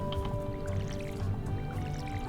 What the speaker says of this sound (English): And now let's water these all.